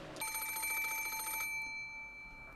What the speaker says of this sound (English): the piercing sound of a phone rang through the room